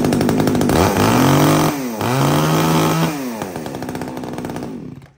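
A used Japanese-market chainsaw, one of a batch of Stihl, Shindaiwa, Hitachi, Echo and Shingu saws, runs loud and close, its two-stroke engine revving up and down several times before settling to a lower idle.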